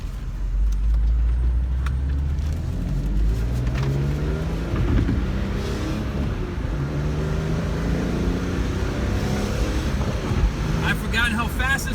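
A BMW E46 M3 driving on the road, a steady low engine drone with rising and falling revs as it accelerates, under wind noise and a driver talking throughout.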